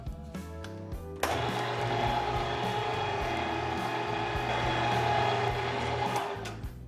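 A food mixer churns ground summer sausage meat with extra jalapenos, starting abruptly into a steady, loud motor whir that holds evenly for several seconds before easing off.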